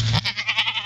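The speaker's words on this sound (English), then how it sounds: "Those are goat noises that I would expect." Goats bleat during mating, a short run of nasal, wavering bleats in quick pulses, loud and close with no talk over them.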